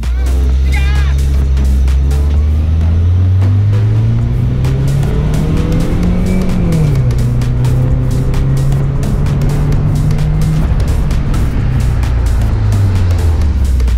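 A Daihatsu Sigra turbo car racing on a short track, its engine droning loud and close, pitch rising and dipping as it accelerates and shifts, with voices talking over it throughout.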